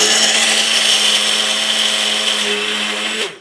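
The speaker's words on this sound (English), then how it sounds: "Add the cashews. And literally, this is all we're doing to make the flour. The mill on. Give it a little shake just beforehand. And we're gonna blitz this for 10 seconds." A blender blitzes cashews into flour, a loud, steady, dense whirring roar that holds for about three seconds and then cuts off abruptly.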